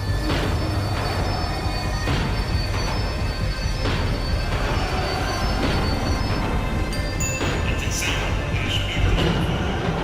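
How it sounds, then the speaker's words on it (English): A tram in the video game Max Payne 3 rumbles and slows on its rails, a loud, steady close rolling drone with rhythmic wheel knocks and a brief high squeal near the end. "The tram was slowing down, and I'd only just gotten on board."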